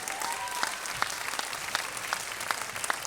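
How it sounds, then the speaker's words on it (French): Audience applause at a live concert release party, a dense sustained patter of many hands clapping with a few sharper individual claps standing out, steady and fairly close throughout. "on peut l'applaudir encore bien fort"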